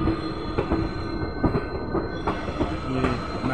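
At an Indian railway station on the Kanpur line, a train rolls slowly toward the platform with steady rumbling, faint squealing wheels and soft rhythmic clicks over the track joints.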